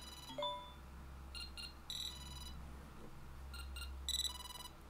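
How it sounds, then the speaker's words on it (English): An Elecrow ThinkNode M2 Meshtastic node sounds an incoming-message notification: several short, bright electronic chirp bursts repeat at irregular intervals over a low steady hum in a quiet room. "So that's the chirp that you can hear."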